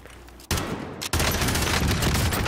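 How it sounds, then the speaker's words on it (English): Video game gunfire shooting a rocket out of the air, a dense rapid volley of close, loud shots that sharpens after a brief pause and keeps going to the end. "I shot the rocket out of the air!"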